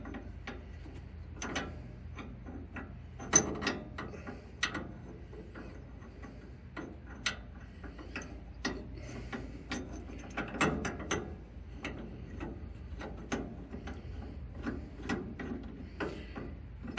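A ratchet tightens a nut on a new spindle assembly with QA1 control arms on a 1969 Dodge Charger, giving a long run of close, rapid clicking bursts with short pauses between strokes.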